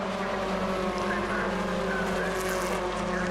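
Toyota MR2 race cars run past at Castle Combe during a Toyota MR2 Championship race, a steady engine drone heard at moderate distance without talk.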